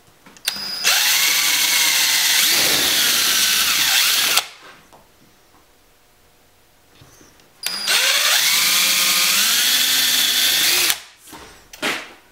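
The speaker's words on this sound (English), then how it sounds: "I'll use the same drill bit with the pre-drill and countersink" A power drill whirs loudly in two long bursts, pitch dropping as it pre-drills and countersinks into AZEK board, separated by a quiet pause, with a short final whir.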